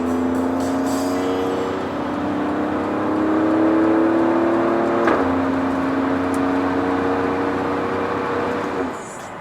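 An Alfa Romeo Stelvio Quadrifoglio cruises in race mode with its exhaust open, a steady droning engine hum and tire whir that swells slightly and eases near the end, heard from inside the cabin.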